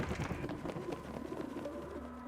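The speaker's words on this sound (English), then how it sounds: "And they even have pigeon sounds." A pigeon coos softly in the video game Prey (2017), a few low throaty coos repeating over a quiet background hum.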